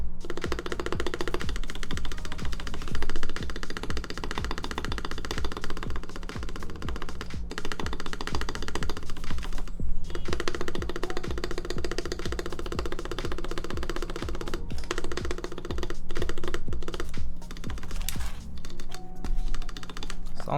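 Steady clacking of mechanical keyboard keys with stabilizers on a Keycult 2/65 keyboard, typed in quick irregular bursts, close and fairly soft, with occasional brief pauses.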